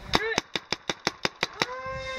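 A paintball gun fires at a drone: about nine sharp, close pops in a quick, evenly spaced string, each with a short ringing tail.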